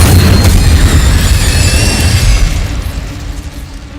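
An Incendio fire spell explosion in Hogwarts Legacy, a loud, close, roaring blast that fills the clip with heavy rumble and fiery crackle, then slowly fades out.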